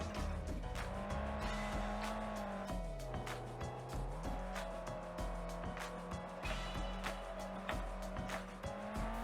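Phoenix RS4 rally car in the Overspeed Championship racing game, a steady loud engine drone with gear shifts and tire squeals, continuous and close throughout.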